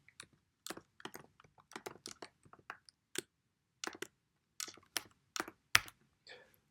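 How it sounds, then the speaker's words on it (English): Bursts of keyboard typing, quick clusters of key clicks separated by short pauses, close and clear against a quiet background. "Let's hope I'm typing this correctly."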